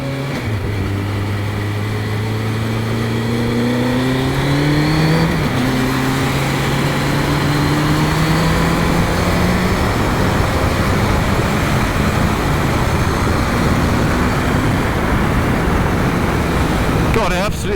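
A 1998 Honda CBR 1100 XX Super Blackbird motorcycle rides along a motorway, its engine note rising steadily through gears with one shift midway, buried in loud, constant wind roar throughout.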